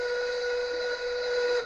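A steam work whistle in the 1930s style blows one long, loud, steady tone that holds for nearly two seconds with no talk over it.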